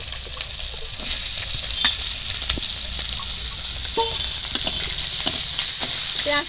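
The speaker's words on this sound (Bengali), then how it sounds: "পেঁয়াজটা একটু ভেজে নেব।" Chopped onion frying in oil in a kadai, giving a loud, continuous sizzle with frequent spatula scrapes and taps close by.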